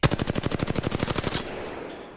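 An R-301 rifle in the video game Apex Legends fires a rapid burst of about fifteen evenly spaced shots over roughly a second and a half, loud and close, then breaks off into a fading tail.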